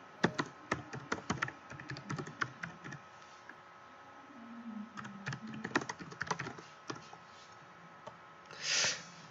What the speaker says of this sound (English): Let me also type here.